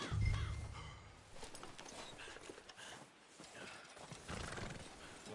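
A horse's hooves clop and shuffle nearby in the video game Red Dead Redemption 2, with snorting and a short whinny amid light rattling.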